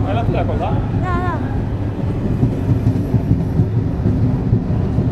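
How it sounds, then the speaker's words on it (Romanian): A passenger train on the Luxor to Cairo route in Egypt rumbles steadily and loudly nearby, a continuous heavy low roar with a brief wavering horn or squeal near the start, while people talk. "Trenul nostru a venit mai devreme față de cum ne așteptam"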